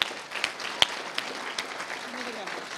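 An event audience gives a round of applause for its sponsors, scattered clapping with a few sharper claps standing out, moderate and somewhat distant in a hall.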